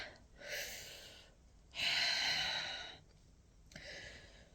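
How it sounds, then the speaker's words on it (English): Slow, deep breaths in and out, three long airy exhalations spaced a second or so apart, close and soft in a quiet room. "We then take a deep breath in and out 3 times."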